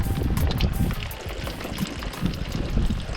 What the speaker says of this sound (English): Already draining water out of the scupper. It's working.